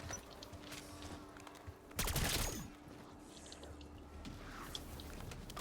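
A burst of rapid automatic gunfire in a zombies video game lasts under a second, set in a low ambient hum with faint scattered clicks before and after.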